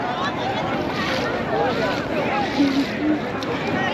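A boat on the Ganga, with steady broadband rumble and wind buffeting the microphone; people talk faintly in the background.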